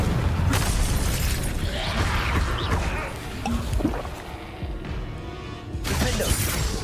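Confringo blasting spells in the Hogwarts Legacy video game go off as loud booming, crashing explosions with shattering debris, layered over busy combat noise in a dense, continuous barrage.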